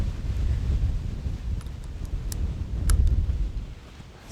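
Strong wind buffets the microphone at an outdoor shooting range, a steady low roar with gusty swells and a few faint clicks, no voices.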